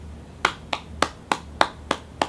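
Single hand claps ring out close and crisp, seven of them at a steady, even pace with no talking.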